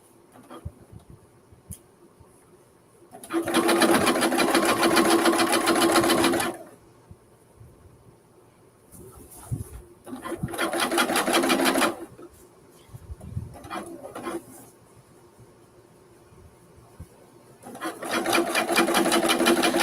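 A sewing machine skipping stitches while sewing jeans runs in three sustained bursts of fast, steady whirring and needle chatter. Quieter pauses with light handling noises separate the bursts.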